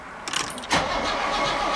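A Mercedes-Benz 230SL Pagoda W113 cranks briefly, then its engine catches with a sudden loud roar and settles into a steady run, close by.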